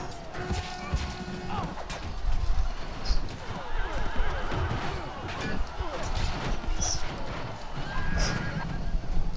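Horses neighing and hooves clattering in a cavalry clash in the Rome: Total War game, Sparta against Athens, with a dense battle din running throughout and whinnies rising above it.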